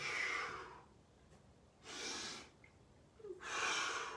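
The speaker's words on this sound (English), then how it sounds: "Take a deep breath. Inhale. Blow it out." Three slow, deep breaths drawn in and blown out near the microphone, breathy and soft, spaced about a second and a half apart with quiet gaps between.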